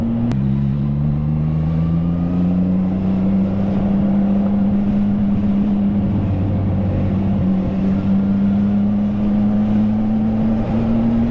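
A CFMOTO 675NK motorcycle with a full-system exhaust drones steadily throughout, its pitch rising slightly at times, with wind rumble over the microphone and no talking.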